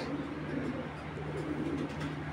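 Soft, low cooing from a large racing pigeon hen murmurs steadily through the clip, with a faint voice and background hum underneath.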